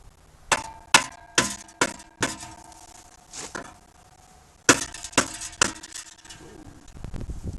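A series of sharp metallic strikes rings out, several quick hammer blows on a truck in two bursts with a short pause between, close and resonant.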